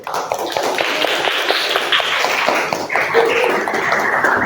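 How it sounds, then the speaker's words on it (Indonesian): A class of students applauding a presenting group in a school classroom, a steady patter of many hands clapping together, fairly loud and continuous with a faint voice over it. "Tepuk tangan buat kelompok 1."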